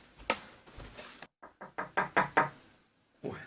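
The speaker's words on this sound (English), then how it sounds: "Whence is that knocking?" Knocking on a door during a Macbeth performance: a few loose raps, a short pause, then a quick run of five firm, close knocks that build in loudness, followed by one more.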